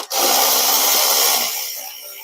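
A power tool whirs close by for about a second and a half, taking bolts out of a car's intake manifold during an intake gasket replacement, then winds down and fades.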